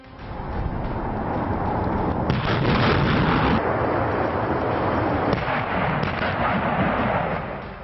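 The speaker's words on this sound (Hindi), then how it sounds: "हिमारस एक लाइट मल्टीपल रॉकेट लॉन्चर है जिससे एक वक्त में एक साथ कई मिसाइल" HIMARS light multiple rocket launcher firing, a sustained loud roaring blast lasting several seconds with surges and crackling bursts, heard alone without talk.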